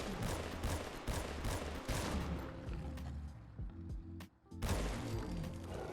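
In Fallout 4, a modded M14 rifle fires .308 rounds semi-automatically at a Deathclaw: a rapid series of loud, sharp shots with creature roars and impacts, then a brief lull before the shots resume.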